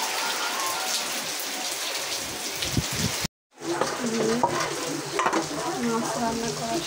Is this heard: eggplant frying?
yes